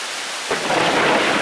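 Thunderstorm over a river town: a dense hiss of heavy rain swells as a deep rumble of thunder rolls in after half a second, loud and close, with no voices.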